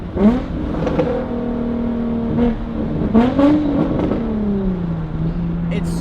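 A car fitted with a Tomei Ti titanium exhaust revs and holds a loud, rising and falling engine tone, with short voices audible over it.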